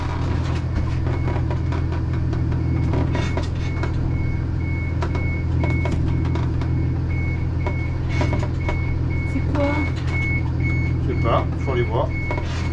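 An alarm beeps in a repeating pattern on board a boat, sounding steadily over a constant low engine or generator drone, with clattering and movement noises around it.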